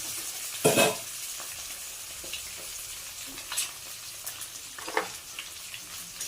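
Food frying in a pan in a home kitchen, a quiet, steady sizzle broken by a few sharp clattering scrapes, with no one talking.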